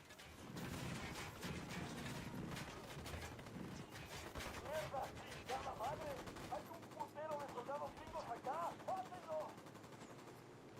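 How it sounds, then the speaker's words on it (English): Rapid automatic gunfire from a squad opening fire in the Ghost Recon video game, with dense bursts and rattling shots running through the whole stretch, while voices call out over and between the volleys. "Firing."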